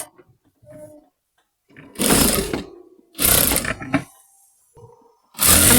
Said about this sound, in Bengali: এভাবে অপোজিট আরেকটি পাশও ধরে আমরা সুন্দর করে সেলাই করে দিব